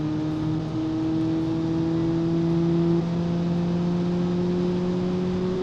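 A 1946-design Merano Titus car in the BeamNG driving game hums steadily under acceleration, its engine tone holding a sustained drone that steps up slightly in pitch, loud and close, with no talk over it.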